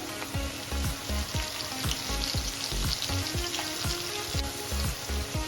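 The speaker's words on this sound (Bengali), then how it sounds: "তেলটা গরম হয়ে গেছে, এবার আলুগুলোকে দিয়ে দেব।" Potatoes frying in hot mustard oil with a pinch of turmeric, a dense continuous sizzle and crackle broken by rapid rhythmic ladle clacks against the pan, close and fairly loud, with no talk.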